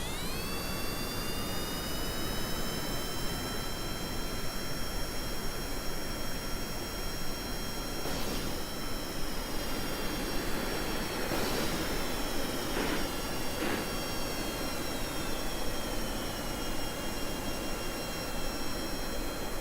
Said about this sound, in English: Oh yeah, full afterburner.